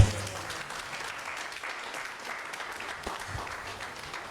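A church congregation claps steadily in acclaim of the Lord during a revival seminar, a dense, even wash of applause sustained throughout with little else heard.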